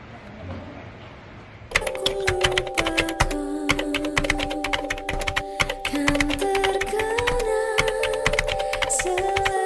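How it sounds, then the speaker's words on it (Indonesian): Rapid keyboard typing of the Indonesian independence proclamation text, staged for a student short film, comes as dense, steady clicking for most of the clip over sustained tonal background sounds. "Sayuti, tolong kau ketikkan naskah ini."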